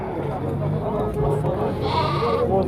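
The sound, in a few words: sheep bleating at a livestock market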